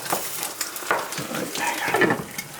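Eggs frying in a pan on a stovetop, with steady crackling sizzle and some stirring or scraping sounds close by throughout, no talk.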